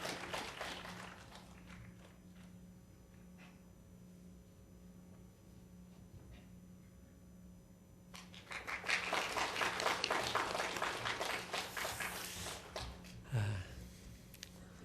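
Church congregation at Gangnam Dongsan Church clapping together to blow out birthday candles, a burst of applause rising after a quieter stretch and lasting several seconds before fading.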